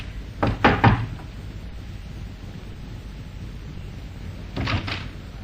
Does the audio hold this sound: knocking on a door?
yes